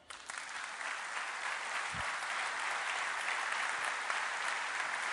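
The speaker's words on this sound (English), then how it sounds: "Ulrich Pissofer, que je vous remercie d'applaudir." Steady applause from a large crowd, dense and sustained throughout, with no voices standing out.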